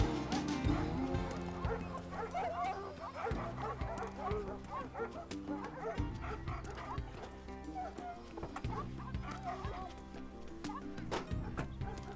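Several dogs bark, yip and whimper together in a busy, overlapping chorus, loud and close, with hoof-like clopping mixed in throughout.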